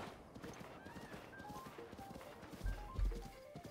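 Hooves clip-clop at a steady rhythm as a horse travels in the video game The Legend of Zelda: Breath of the Wild. Quieter in-game tones sound over it, followed by a couple of low thuds near the end.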